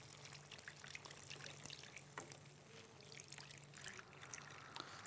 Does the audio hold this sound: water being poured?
yes